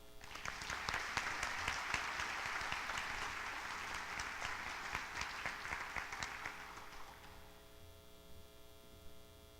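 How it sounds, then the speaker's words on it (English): A ceremony audience gives a round of applause for Dr. Freeman at a university pharmacy school white coat ceremony, a dense, fairly distant wash of clapping over a steady mains hum that fades out toward the end. "Please join me in one more round of applause."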